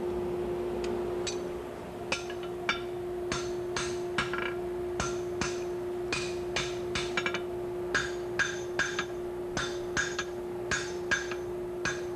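At a forge, a hammer strikes to draw a steel point on a chisel: sharp metallic blows, loud and close, fall in a steady rhythm over a constant low hum, with short pauses between groups of strikes.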